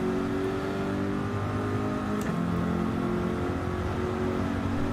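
GT3 race cars in the Gran Turismo video game pull out of the pits at St Croix circuit, their engines a steady, droning whine with layered harmonic tones held continuously for several seconds, with no voices.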